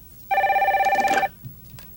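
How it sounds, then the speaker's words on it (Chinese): A telephone bell rings in one pulsing burst of about a second, loud and close, and then stops, leaving quiet room noise. "电话过来啊啦。"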